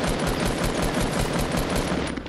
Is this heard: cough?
no